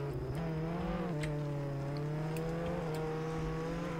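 Tow truck engine in the Roblox game Jailbreak, a steady droning motor tone with slight pitch rises as it pulls away and drives on, continuous and fairly close with no talking.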